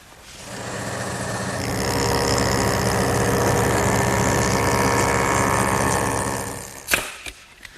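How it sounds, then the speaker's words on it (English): A woodworking jointer roars steadily for several seconds while beveling the back edge of a Shaker step stool tread, then spins down, followed by a few sharp knocks and clatters of wood. "And for that, once again, I'll turn to the joiner."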